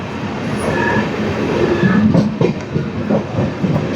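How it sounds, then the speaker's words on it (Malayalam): A train pulling out of Kottayam railway station in Kerala on a hot, sunny afternoon, with a steady rumbling roll and soft rhythmic clacks of wheels on the track building gradually, heard up close throughout. "കോട്ടയം റെയിൽവേ സ്റ്റേഷനിൽ നിന്നും ട്രെയിൻ പുറപ്പെട്ടിരിക്കുകയാണ്"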